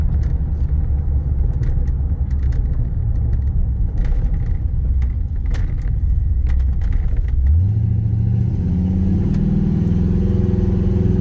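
A 1994 Ford F-150 XLT Lightning pickup engine rumbles steadily while driving, then the pitch rises as it accelerates near the end; loud and close, no talking.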